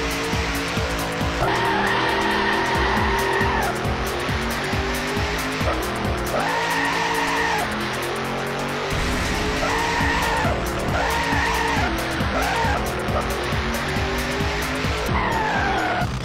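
Race cars skid and squeal their tires through a Drome Racers video game race, with engines roaring loudly and continuously over game music.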